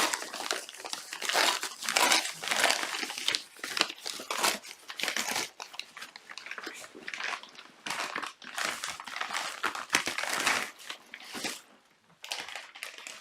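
Plastic outer wrapping crinkles and crackles in repeated bursts as it is pulled off a crochet subscription box, close and fairly quiet, with no talking.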